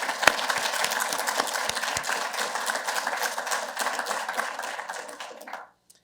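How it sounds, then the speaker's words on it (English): Audience applause at a Harvard University commemoration of the Greek War of Independence: dense, even clapping fills the room for several seconds, then fades and stops abruptly. "please let's give them a round of applause"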